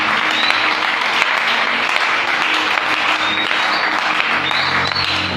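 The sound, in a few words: congregation applauding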